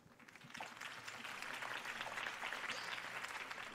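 Crowd applause from a political rally scene in Batman: The Telltale Series, a quiet wash of many hands clapping that swells in after a brief lull and holds steady, sounding distant and soft.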